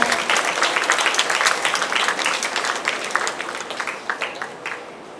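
An audience applauds certificate winners called up on stage at a Diwali festival celebration, a dense, steady wash of many hands clapping that tapers slightly toward the end.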